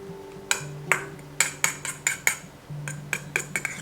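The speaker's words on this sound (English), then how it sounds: "Now mix all together." A utensil clinks repeatedly against a bowl while rice, salmon and cabbage are mixed for baby food oyaki, giving a quick irregular series of sharp taps close up with a faint hum beneath.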